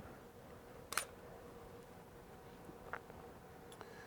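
A single-lens reflex camera shutter firing for a one-second exposure: a sharp mechanical click, then a second softer click about two seconds later, faint and close in an otherwise quiet room.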